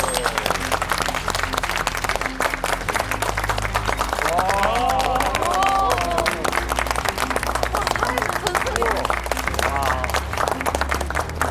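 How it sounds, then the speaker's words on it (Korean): A studio audience on a Korean television show applauds to welcome a Marine Corps war veteran, a loud, continuous wash of clapping with crowd murmur and scattered cheers, and a voice briefly heard over it. "여러분 박수로 맞아주십시오"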